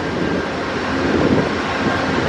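An Amtrak passenger train rumbles steadily at a station stop, a loud, continuous low roar with no voices over it.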